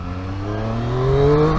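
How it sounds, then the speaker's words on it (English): A 2023 Triumph Street Triple R motorcycle engine revs up with a rising whirring induction howl, its pitch climbing steadily and loudly through a short burst. "The engine is still the same. You still get the quick shifter and the blipper, and you still get that absolutely insane induction noise"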